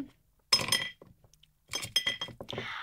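Glass candle-holder jars from a glassware shop, used for makeup storage, clink against each other up close in two clusters of bright, sharp taps with a quiet gap between.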